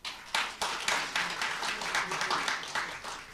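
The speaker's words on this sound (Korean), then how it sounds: "김병준 회장님을 큰 박수로 모시도록 하겠습니다." An audience at a symposium applauds to welcome a speaker, steady sustained clapping from many hands filling the hall for a few seconds.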